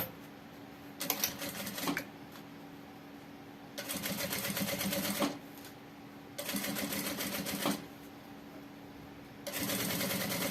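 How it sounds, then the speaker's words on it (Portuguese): Sewing machine stitching along the edge of a backpack, running in several bursts of steady rapid whirring separated by short pauses, close and fairly loud. "vou começar aqui costurando na beiradinha"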